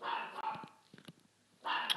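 A Minecraft dog barks in short bursts in a pocket edition survival game, a few sharp close yaps with quiet gaps and no talk.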